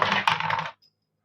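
Pinball machine bolts drop into a plastic bag, giving a short burst of jingling metallic clatter and rustle that stops abruptly, close and fairly loud.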